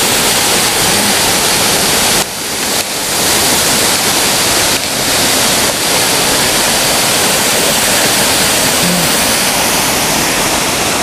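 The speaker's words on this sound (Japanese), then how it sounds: "それは今見た不動滝ですね" Fudo Falls at Akame in Nabari pours in a steady, loud, broadband roar of falling water that fills the whole scene without pause.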